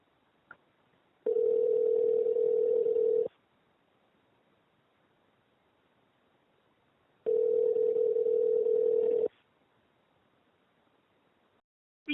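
Telephone ringback tone at the start of a recorded call: two long, steady electronic rings of about two seconds each, separated by a four-second gap, clear and alone in a quiet line.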